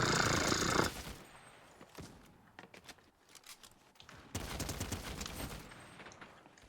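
Combat assault rifle fire in a video game, short bursts of rapid shots with quieter footsteps and movement between them, a loud volley at the start and another midway.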